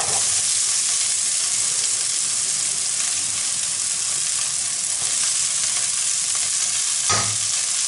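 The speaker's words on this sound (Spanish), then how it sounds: "en un perol voy a poner un poco de aceite para freír lo que es, para echar un poquito la cebolla" Onion fries in oil in a pot with a loud, steady, dense sizzle that holds evenly throughout, broken only by one brief bump near the end.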